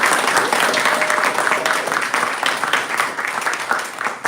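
Loud, sustained audience applause at an inter-secondary schools debating competition, many hands clapping in a dense, steady roar that continues throughout.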